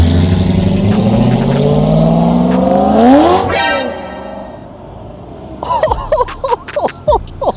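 A big American V8 engine revs up, rising to a roaring peak before the pitch sweeps down and fades, then rough burbling pulses follow nearby.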